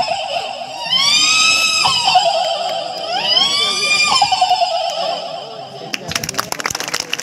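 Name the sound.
mimic imitating a horse neighing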